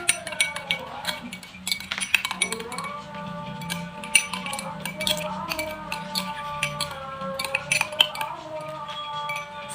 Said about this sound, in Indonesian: kita aduk rata hingga kedua bahan tercampur secara merata